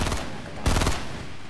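Gunfire in the Fortnite video game comes as rapid, rattling bursts of automatic shots. They are loud and dense, with a sharper burst midway through the short stretch.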